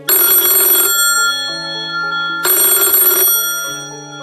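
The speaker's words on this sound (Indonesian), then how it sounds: "Tapi lalu, telepon berdering." A telephone bell rings loudly in two long, shrill bursts separated by a pause, each ring followed by a lingering electronic tone in a quiet room.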